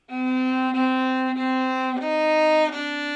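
A bowed viola plays a short, sustained melody of several legato notes, clear and close, with a brief bow change between each tone.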